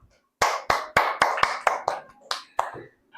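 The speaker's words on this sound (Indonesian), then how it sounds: "Tepuk tangan buat Cantika" Classroom clapping for a pupil in a Christian religious education lesson, about nine sharp, evenly spaced claps in a quick rhythm, close and clear after a short pause.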